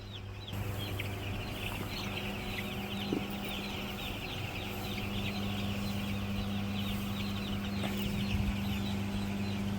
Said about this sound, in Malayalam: സെയിം ബാച്ചിൽ തന്നെ, സെയിം ഷെഡിൽ തന്നെ കോഴികൾ ഇപ്പോൾ ഏകദേശം 5ാമത്തെ ദിവസമായി